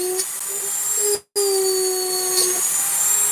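A rotary burr cuts smoothly into maple with a high, steady whine, briefly cutting out once near the middle before resuming.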